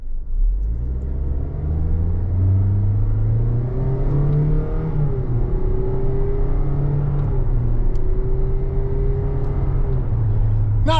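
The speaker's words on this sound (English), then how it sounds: "if we move the gear shift to the left, we can shift it like a 6-speed." A 2025 Toyota Corolla Cross L accelerates in manual shift mode, its engine humming from inside the cabin, rising in pitch through gears with steady road rumble.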